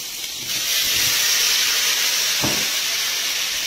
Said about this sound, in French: On va flamber.